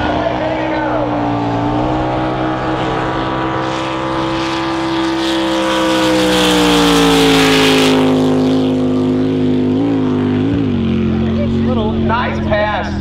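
A drag racing boat roars through a pass, its engine a loud sustained howl that rises and bends in pitch, peaking midway and then winding down, with a continuous powerful rumble throughout.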